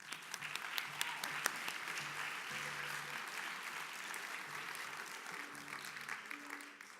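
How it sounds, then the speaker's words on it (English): Audience at a school winter orchestra concert claps for the high school players, a dense steady wash of many hands at moderate distance, with faint instrument tones sounding briefly underneath. "I want everybody to give them a round of applause for that."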